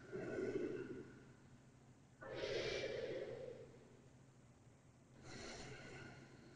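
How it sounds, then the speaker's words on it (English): Slow, deep breathing during an intermediate yoga session, three soft breathy inhales and exhales spaced a couple of seconds apart, close but fairly quiet. "Deep breaths."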